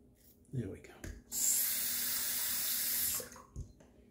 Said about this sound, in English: Final warm water rinse.